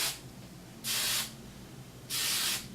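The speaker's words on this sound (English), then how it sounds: "Make sure you give everything a nice coat of hairspray before you start playing with it too much, so it'll set the curls" Two short bursts of hairspray hit curled hair, each an up-close hiss lasting under half a second, with a brief pause between them.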